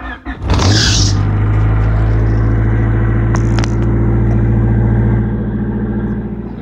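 A car engine cranks and catches after an OBD2A to OBD1 conversion, then settles into a loud, steady idle with a continuous low rumble close by.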